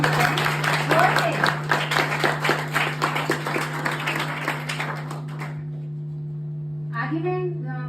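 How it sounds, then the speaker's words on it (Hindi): Audience applause for a speaker at a motivational talk at a maths academy, dense clapping filling the room for about five seconds, then fading to quiet with a brief voice near the end over a steady hum. "सर के लिए एक बार फिर से जोरदार तालियां।"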